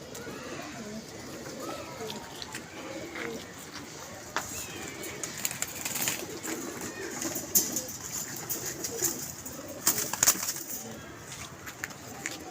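Pigeons at a pigeon club loft coo softly and repeatedly, including a prized female flier, with rustling and clicks around them and someone talking over the birds throughout.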